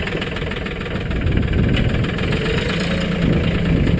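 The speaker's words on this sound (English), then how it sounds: "So we got to reposition the tractor." A Mahindra 1526 tractor engine idles close by with a steady, rough diesel chug and vibration, growing slightly louder partway through and holding on continuously with no talk.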